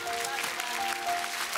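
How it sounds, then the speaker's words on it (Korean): Audience applause at a televised Korean singing competition show, a dense continuous patter of clapping heard alone and fairly close for a short burst. "아무리 경쟁자지만 정말 진심으로 최고의 찬사의 박수를 보냅니다."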